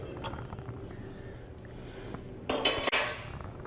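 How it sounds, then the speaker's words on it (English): A container of raspberry puree for home-brewed beer being opened outdoors in a light breeze: a short burst of clattering, clinking handling sounds near the end, close and moderately loud over a steady low background. "Okay, I'm opening the raspberry puree."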